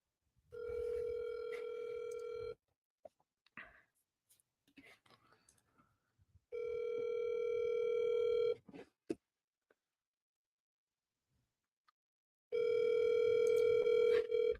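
Outgoing telephone call tone repeating in long steady beeps with silent gaps between them, heard close and clear, with faint soft sounds in the pauses.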